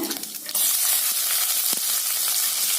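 Onion, mustard seeds and lentils fry in hot oil with a loud, dense crackling sizzle that surges after a short pause and stays steady, with a stirring scrape partway through.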